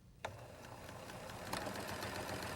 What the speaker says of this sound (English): As you stitch, you can either cut or skim along the edge.